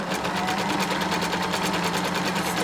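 Sewing machine stitching a gather into a long dress, a fast even mechanical chatter running continuously at close range for a couple of seconds.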